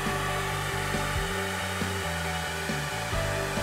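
Heat gun blowing a loud, steady hot-air roar with a constant motor hum as it warms vinyl wrap film for application into a deep channel on a vehicle part, running alone without talk.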